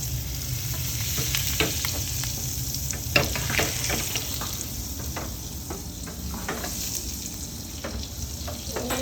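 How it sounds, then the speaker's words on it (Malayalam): Butter melts and sizzles in a hot pan for an omelette, a steady close crackle broken by light scraping and stirring taps, with no voices. "ബട്ടർ നമുക്ക് ഇട്ട് കൊടുക്കാം. ഇത് അലിഞ്ഞ് വരുമ്പോൾ ഇതിടണം."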